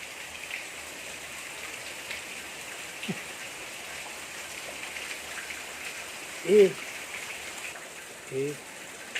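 Steady rain falls in a constant soft hiss, with two brief voice-like sounds near the end.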